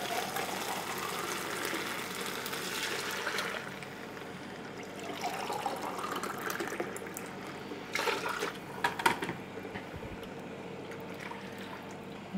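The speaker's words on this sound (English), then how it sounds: "we're going to add a can of whole tomatoes, and we'll add some water." Water trickles and pours steadily into a cooking pot holding canned whole tomatoes, a continuous liquid rush with a few small clanks toward the end.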